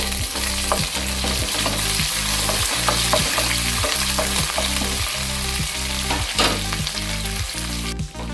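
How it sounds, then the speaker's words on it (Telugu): Onion and curry leaves frying on high flame in a pan, a loud, steady sizzle close up with repeated rhythmic scraping and stirring strokes, no talking. "హై ఫ్లేమ్లోనే వేయించుకోవాలి ఉల్లిపాయ తొందరగా వేగుతుంది"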